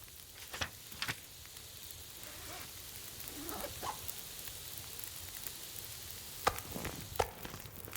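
Food sizzles softly on a fire in The Long Dark, a low steady crackle with a few sharper pops and ticks scattered through, fairly quiet and continuous with no talking.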